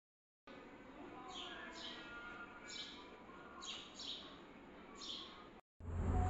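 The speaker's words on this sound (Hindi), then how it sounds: "चिड़िया की आवाज़ सुनो।" Several short bird chirps repeat at irregular intervals over a steady background murmur, moderately close, then a brief gap and a louder noise at the end.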